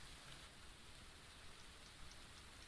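Rain falls steadily as a faint, even hiss with scattered soft drops ticking on a surface throughout and no voices.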